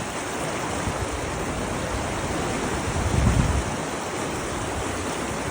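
Continuous rushing of a flowing river, a dense broadband wash of water noise with a brief louder low surge partway through, heard alone without speech.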